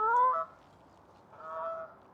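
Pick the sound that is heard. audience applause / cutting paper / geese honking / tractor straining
geese honking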